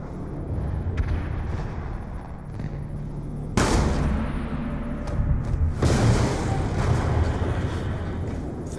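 Sustained gunfire and heavy booms in Call of Duty: Black Ops 2, a loud dense rattle that surges sharply louder partway through and keeps going without a break.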